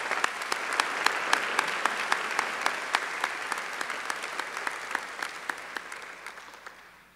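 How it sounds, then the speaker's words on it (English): Audience applause at a high school graduation ceremony, a steady wash of many hands clapping with sharp individual claps standing out, holding strong for several seconds before slowly fading away at the end. "I think they deserve another round of applause."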